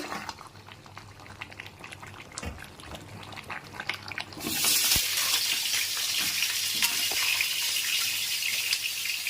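Chicken kosha cooking in a big kadai, a large batch for many guests: soft bubbling and faint stirring at first, then a loud steady sizzle takes over midway and holds, with occasional scrapes.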